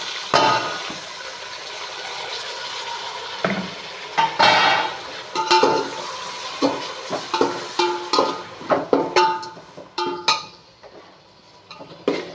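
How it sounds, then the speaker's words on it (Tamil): Tomatoes, onion and garlic are sautéed in a pan while cooking chicken noodles, with a spoon repeatedly scraping and clinking against the metal over a soft sizzle, in irregular close strokes with short pauses. "அப்படியே இந்த தக்காளியை வதக்கணும்."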